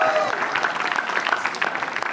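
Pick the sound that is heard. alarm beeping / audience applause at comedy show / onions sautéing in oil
audience applause at comedy show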